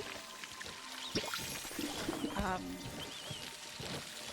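Water streaming from a watering can onto plants in the farming game Palia, a soft continuous pour with faint chimes and game effects over a low background.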